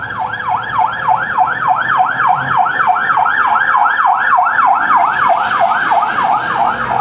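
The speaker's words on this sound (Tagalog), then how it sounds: "Ayun, may ambulansya pa nadadaan." An ambulance siren wails in a fast, regular up-and-down cycle as it passes along a rainy street in Lopez, Quezon, loud and near throughout with faint traffic noise beneath.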